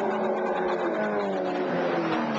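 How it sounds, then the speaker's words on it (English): Peter Brock's race car at Bathurst in 1982, its engine revving hard and steady at high pitch for a short stretch, with no talk over it. "Really stretching the engine now"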